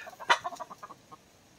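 Chickens cluck nearby in a quick series of short, soft calls, one louder squawk early on, then tapering off.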